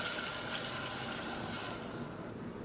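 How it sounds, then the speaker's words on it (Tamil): Water is poured into a pan of sambar with tamarind and asafoetida, a steady close gushing rush that fills the whole moment with no voices. "தேவையான அளவுக்கு தண்ணி சேர்த்துக்கலாம்."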